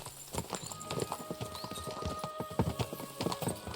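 Horses gallop in Kingdom Come: Deliverance II, a rapid, busy patter of hoofbeats with an occasional whinny, close and continuous throughout.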